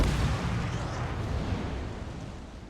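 A torpedo strike explodes against a ship in World of Warships, a loud, deep blast that rolls on and slowly fades over a few seconds with no voices.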